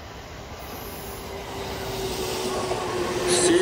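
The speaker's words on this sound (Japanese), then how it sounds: "特急電車が今この常陸大宿駅に停車をしようとしています" An express train rumbles steadily into Hitachi-Ōmiya station, growing louder as it nears, with a rising metallic screech of brakes toward the end.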